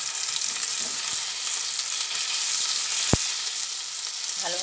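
Tomato, onion, ginger and garlic paste frying together in a pan for a cabbage kalia, a loud continuous hiss of sizzling oil with one sharp knock of a utensil partway through, close and without speech.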